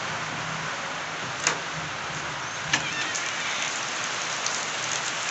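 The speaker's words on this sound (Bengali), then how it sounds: "বাইরে প্রচুর বৃষ্টি হচ্ছে, আশা করি আওয়াজ পাচ্ছ" Heavy rain falling outdoors, a dense, steady hiss of drops on surfaces with a few louder splashes and knocks standing out.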